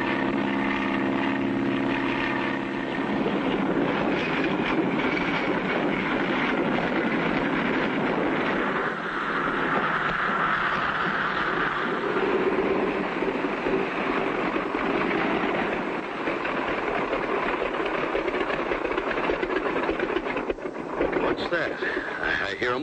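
A small aircraft or boat motor drones steadily at mid distance, its engine hum holding level throughout with some tonal wavering and wind-like noise, while voices sound intermittently over it.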